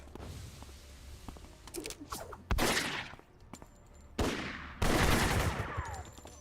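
Gunfire in the video game City of Heroes comes as several loud, sharp bursts, including a quick clattering run, separated by quieter stretches of game noise.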